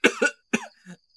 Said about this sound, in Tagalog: Parang di na yan normal na ubo, be.